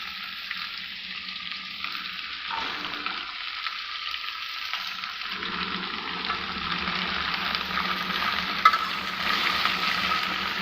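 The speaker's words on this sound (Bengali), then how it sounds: "এগুলো একটু ভালো করে উল্টা পাল্টা করে ভাজে" Summer vegetables frying in a pan while being turned over, a continuous close sizzle with soft stirring, building slightly louder toward the end, with no speech.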